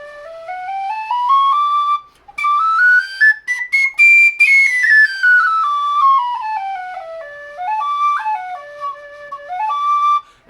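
A carbon fiber high D tin whistle plays a bright, clear melody alone, with smooth slides and a few quick ornamented runs between steady held notes.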